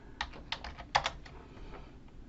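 Quick bursts of typing on a computer keyboard entering a web search, close and clear, with a few louder keystrokes near the middle and no talking.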